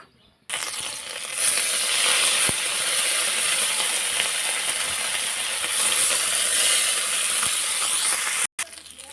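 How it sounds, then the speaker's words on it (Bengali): Large mourala fish fry lightly in hot oil in a wok, giving a loud, steady hiss that starts abruptly, holds without a break and cuts off near the end. "এবারে এই যে বড় বড় মৌরালা মাছগুলো, এগুলো হালকা ভেজে নেব"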